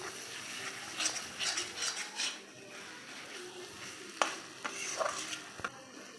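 Prawns frying in a pan while being stirred, a faint sizzle under bursts of scraping and a few sharp clinks of a utensil against the pan, close and fairly quiet, no talking.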